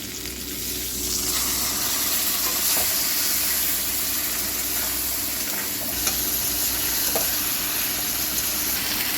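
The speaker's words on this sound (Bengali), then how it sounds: "এবার সামান্য জল দিয়ে কষাবো" Spiced fish curry masala with turmeric, chili, cumin, pepper and salt, sautéed in a pan with a splash of water: a steady, close hiss of sizzling throughout, broken by a few faint scrapes of stirring.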